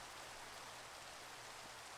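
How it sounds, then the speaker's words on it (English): Steady rain begins falling in modded Minecraft, a soft even hiss of drops with no pauses or other sounds, faint and continuous throughout. "now it's going to rain"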